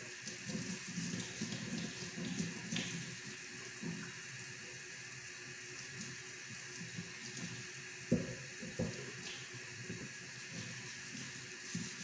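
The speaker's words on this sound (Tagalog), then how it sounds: "Ugas po tayo ng kamuti." Sweet potatoes being washed under a running kitchen tap, a steady faucet stream splashing into a sink with soft handling knocks and a few sharper bumps near the end, no talk.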